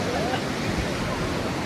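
Ocean surf rolls onto a Sri Lankan beach where baby turtles are released, a steady broad wash of breaking waves filling the scene at close range.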